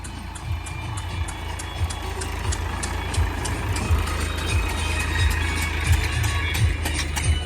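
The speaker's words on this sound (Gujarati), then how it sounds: "આમ જો આપણે બીજું ટ્રેક્ટર આવી ગયું." A tractor arriving: a steady low engine rumble runs throughout at close range, with a regular train of short high beeps repeating across the clip.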